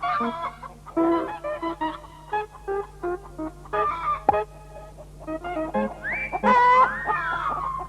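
Chickens cluck and call in a garden in bursts of varying pitch, with a rising, squawking call near the end, fairly close and alone over a steady low hum.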